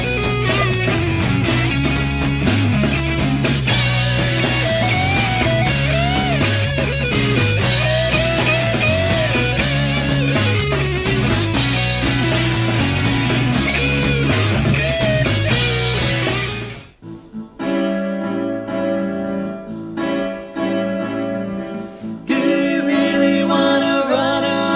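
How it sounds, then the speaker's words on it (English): Rehearsal accompaniment for the pop/rock musical Girlfriend: full, loud, continuous music for about seventeen seconds, then a sudden drop to sparser, quieter playing with short pauses before it swells again. "what you're hearing now is an intimate rehearsal with a rehearsal accompanist"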